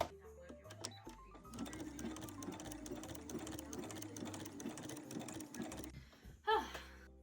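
A sewing machine with a walking foot hems knit fabric, its rapid rhythmic stitching running steadily for several seconds before stopping with a small clack, fairly faint and close.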